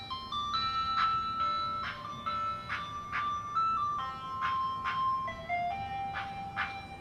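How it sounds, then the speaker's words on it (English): An ice cream truck plays its jingle, a bright repeating melody of tinkling chime notes rolling on steadily at moderate volume with no talk over it. "The ice cream truck. It's following me."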